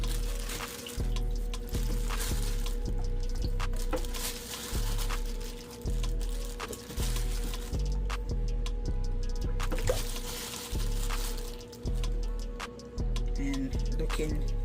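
Cow feet are washed in water, with repeated splashing and sloshing bursts coming in a loose rhythm over a steady low hum, close by. A person talks now and then between the washes.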